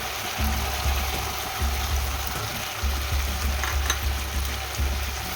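Radhuni and ginger paste fry in oil for shukto, with a steady sizzle beneath rhythmic low scraping as the mixture is stirred in the pan, close and continuous.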